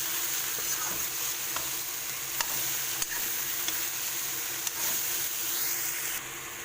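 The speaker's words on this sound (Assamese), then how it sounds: "কম জুইত এইখিনি ভাজি ল'ব অলপ" Pumpkin and boal fish fry on a low flame, a loud, steady sizzle close by, punctuated by a few sharp clicks and scrapes of a spoon stirring the pan, with no one speaking.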